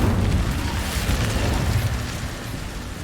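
Incendio fire spell from Hogwarts Legacy, a loud, sustained fiery roar with booming low rumble, strong at the start and fading slightly over three seconds.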